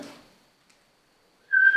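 A single sustained whistle-like tone sounds alone inside a reputedly haunted old county infirmary in Ohio, rising suddenly near the end after a faint rustle and a long stretch of quiet.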